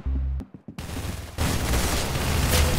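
Gunfire in the video game Arsenal: a few quick shots, then a dense, loud continuous burst of rapid fire with sustained noise.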